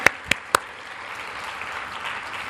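Three loud, sharp claps ring out close together at the start of a church service, followed by a softer wash of congregation applause fading into the room.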